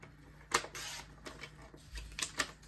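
Paper being trimmed for a handmade pie-themed card, probably on a desktop paper trimmer: a few sharp clicks and slicing strokes, close and fairly quiet, with brief pauses between cuts.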